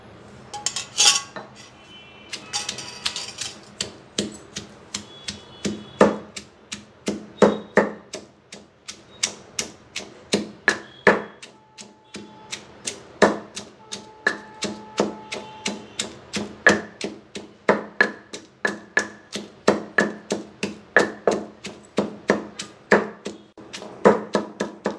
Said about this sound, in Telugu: రోట్లో వేయించిన పచ్చిమిరపకాయలు వేసి నూరుకోవాలి.